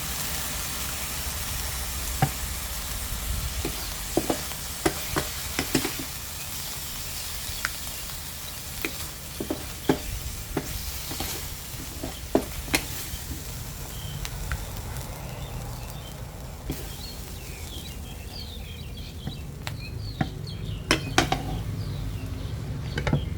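Crispy fried catfish is stir-fried in a wok with red curry chili paste and long beans, giving a steady low sizzle with scattered crackles and clinks of a utensil throughout.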